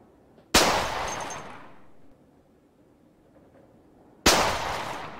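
Two loud, sharp gunshots several seconds apart from a fouled, malfunctioning old gun in the survival game Cataclysm: Dark Days Ahead, each blast ringing out and decaying slowly into near quiet.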